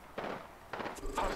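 Gunfire in the video game Apex Legends, with a few short bursts of shots separated by brief gaps and mixed with game effects at moderate volume.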